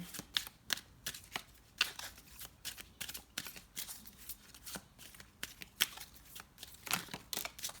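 Tarot cards riffle and slap together during a reading, a string of quick papery bursts and flicks in an uneven rhythm, close but fairly quiet, with no voice over them.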